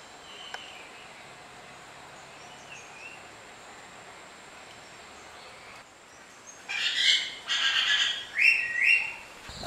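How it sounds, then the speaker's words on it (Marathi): Assorted birds chirp and call in the early monsoon morning in rural Konkan, faint and distant over a steady hiss of insects or rain, with brighter, louder calls rising near the end. "तुम्हाला इथे विविध पक्षी पाहायला पण मिळतील आणि त्यांचे आवाज पण ऐकायला येतात"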